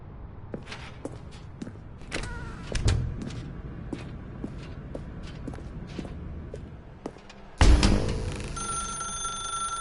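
Game telephone rings with a sharp bell tone, heard after scattered footsteps and knocks, the ringing becoming loud and sustained near the end.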